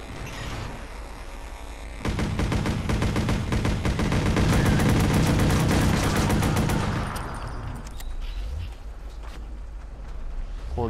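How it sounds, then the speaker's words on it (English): Rapid gunfire in the Watch Dogs video game, a dense burst of shots aimed at a car's tires, loud and close for several seconds before tapering into quieter rumbling. "Shoot the tires."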